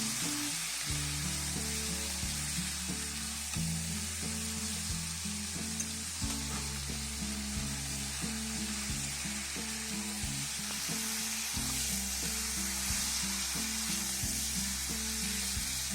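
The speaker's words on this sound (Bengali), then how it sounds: "চিকেনটা দিয়ে আমি ভালো করে পেঁয়াজের সঙ্গে চিকেনটা ভেজে নেব এভাবে" Chicken fries with onions in a pan, a continuous close sizzle running evenly throughout beneath steady background music with a repeating bass pattern.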